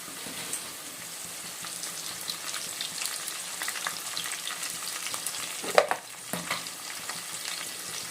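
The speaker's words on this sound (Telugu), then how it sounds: "ఇవి కొంచెం ఫ్రై అవ్వాలి ఇప్పుడు దీనిలోనే కొద్దిగా కరివేపాకు" Curry leaves and spices fry in a pan for an Indian dalcha dish. A steady sizzle carries underneath, with light clinks of stirring and one sharp scrape partway through.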